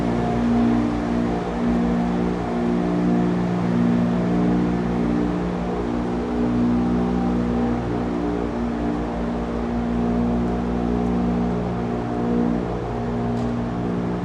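Steady city traffic rumbling past on a busy downtown Toronto street, a continuous low engine drone and whoosh of passing cars heard close by with no talking.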